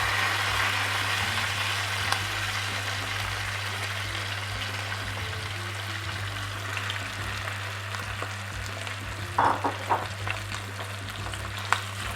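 Rice and vermicelli fry in a pan with a steady sizzle, continuous and close, with a few louder scraping stirs near the end over a constant low hum.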